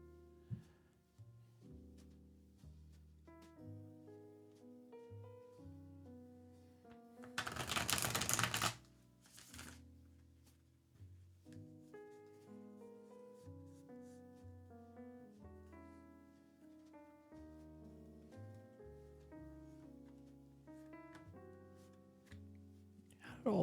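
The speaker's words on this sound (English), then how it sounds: "That's why I'm shuffling so much." A tarot card deck being shuffled during a live reading gives one brief, loud riffling burst that stands out over steady background music.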